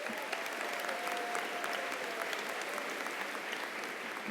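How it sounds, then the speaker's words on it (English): Audience applause at a university commencement, a dense, even ovation from a large crowd that holds steady throughout at a fairly distant level with no voices. "Can we just give them another round of applause?"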